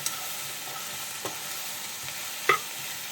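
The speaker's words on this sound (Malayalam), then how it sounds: "നന്നായിട്ട് മിക്സ് ചെയ്തിട്ട് ഒരു 10 മിനിറ്റ് നമ്മളൊരു ലോ ഫ്ലെയിമിൽ ഒന്ന് മൂടി വെച്ച് വേവിച്ചെടുത്താൽ മതി." Ivy gourd stir fry is mixed in a pan, a quiet background sizzle broken by a few scattered scraping taps of the spoon, with one sharper clink near the end.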